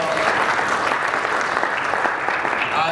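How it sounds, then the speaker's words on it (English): A conference audience gives a steady, dense round of applause, filling the room evenly for three seconds with no break. "David Abel, just give him a round of applause."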